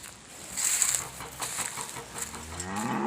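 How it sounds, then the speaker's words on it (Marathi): Cattle low faintly in the distance on a farm path near the cattle shed, with soft calls blending into outdoor ambience and a high chirping of birds, no speech. "इकडं जनावरांची वरडायची गाय कारण की त्यांना आता गोठ्यात जायचं आहे"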